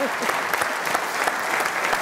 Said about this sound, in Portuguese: Palmas para o fair play.